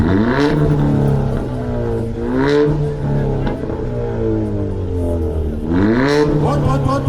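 A car exhaust revs hard during a decibel measurement at a Stance Day car meet in Šurany, Slovakia, with a loud, close, sustained engine note rising and falling through repeated throttle blips.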